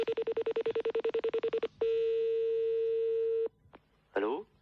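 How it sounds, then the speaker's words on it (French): Telephone keypad tones dial a number in a rapid, evenly spaced run of short beeps, then a long steady ringback tone and a brief chirp, loud and close on a phone call. "on va rappeler votre collègue, je vais l'appeler"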